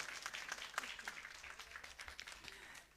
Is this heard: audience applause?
yes